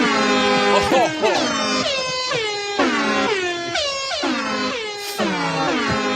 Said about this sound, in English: There's air horn.